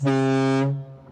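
A deep, loud ship's horn fitted to a truck in a trucking video game sounds once, holding steady before cutting off, leaving faint background noise.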